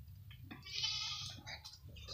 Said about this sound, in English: We're feeding the goats!